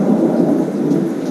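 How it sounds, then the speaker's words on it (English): Thunder rumbling during a rainstorm rolling down from the Drakensberg mountains in South Africa; a loud, continuous low roar mixed with steady rain hiss, alone without voices. "we saw flashes of lightning and heard rumbles as the storm gathered momentum on its way down towards us from the Drakensberg"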